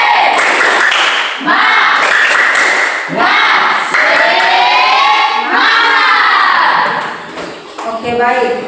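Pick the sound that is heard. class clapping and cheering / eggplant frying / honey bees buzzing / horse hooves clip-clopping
class clapping and cheering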